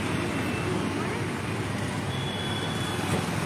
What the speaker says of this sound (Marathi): रोज या ठिकाणी आता अशा प्रकारची वाहतूक कोंडी अनुभवास मिळते.